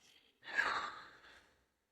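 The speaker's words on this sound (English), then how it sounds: "we're breathing in through the nose" A single soft breath drawn in through the nose during a guided breathing exercise, a quiet airy inhale of about a second, heard close and alone.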